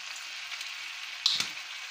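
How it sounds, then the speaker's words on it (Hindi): Vinegar going into a sizzling macaroni sauce in a pan, a steady hiss with a brief sharper burst of spluttering near the end, no talk. "यहाँ पे मैं अब ऐड करूँगी इसमें विनीगर यानी कि सिरका, ये भी दो खाने के बड़े चम्मच।"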